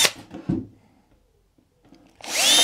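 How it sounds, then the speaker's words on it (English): A power drill bores holes through wood, with a short whirring burst at the start, a quiet pause, then a loud rising whine as the bit spins up near the end. "I'm just going to drill a couple of holes through from this side"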